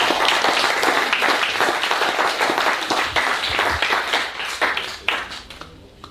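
A church congregation in Taravao, French Polynesia claps and applauds in acclaim of God, a dense roar of many hands that swells and then thins out toward the end, with scattered voices mixed in.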